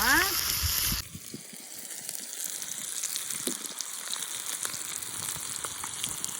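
Marinated fish pieces fry in hot oil, a bright close sizzle and bubbling that settles into a steady crackle, with a short tonal sound at the very start.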